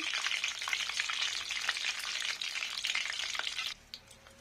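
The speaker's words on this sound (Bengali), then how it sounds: "আমি এটা দিয়েছি সাদা তেল আর পাঁচফোড়ন আর তেজপাতা। একটু খড়ে যাক তেজপাতাটা, পাঁচফোড়নটা।" Bay leaf and panch phoron spices frying in hot white oil, a close, steady, crackling sizzle that carries on for several seconds before easing off slightly near the end.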